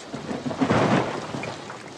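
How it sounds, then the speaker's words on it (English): A storm effect in an audio drama: a low rolling rumble of thunder swells and fades over steady rain hiss, fairly loud and alone. "Must be a storm."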